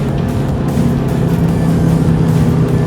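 A car heard from the passenger seat while driving, a steady low engine and road rumble filling the cabin with a constant drone and no talk.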